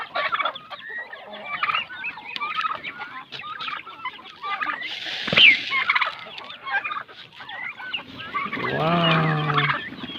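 Turkeys gobble in repeated bursts on a farm alongside clucking chickens and other fowl, with a loud close call near the middle and a rising chorus toward the end.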